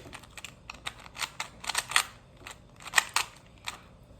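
Rapid plastic clicking and clacking of a 2x2 Rubik's cube being turned, irregular bursts of sharp close-up clicks with no talking.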